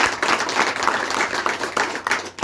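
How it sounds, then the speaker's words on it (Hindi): Audience at a defence academy event in Bikaner breaking into loud, sustained clapping and applause, dense and continuous throughout, with no talk over it. "तो एक बार जोरदार तालियां बजाइए आपके।"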